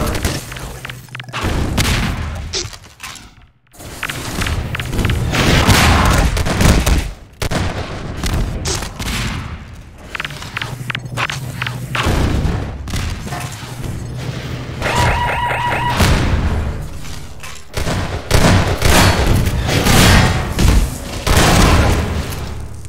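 Automatic rifle fire in a Half-Life 2 Deathmatch game, with repeated loud bursts and booming shots in a busy, dense mix that runs throughout.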